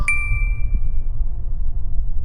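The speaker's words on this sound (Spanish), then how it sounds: "recibí un mensaje de texto de mi amigo" A single bright notification ding from a phone announcing an incoming text message, ringing out clearly at the start and decaying over about a second above a low background rumble, with no talk.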